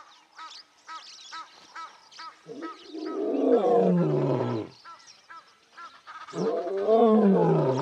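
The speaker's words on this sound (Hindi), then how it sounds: "वो दहाड़ती है, अपने झुंड के लिए, अपने मरे हुए बच्चों के लिए" A wild leopard gives a long series of deep, rasping roars that swell and fade in two main drawn-out bouts, heard at a moderate distance over quieter outdoor ambience without speech.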